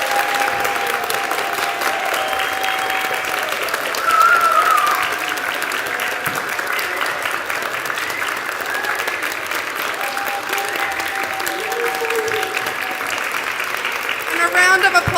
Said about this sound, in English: I want to have all of our actors give bows and get rounds of applause